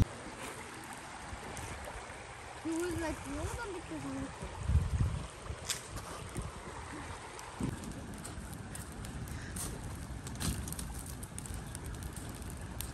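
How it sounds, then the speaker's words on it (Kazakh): A stream gurgles and babbles nearby outdoors, a continuous light watery trickle running beneath people chatting and a few brief louder splashes. "Мына судың сылдырлағанын дауысын айтсаңыздар, қандай."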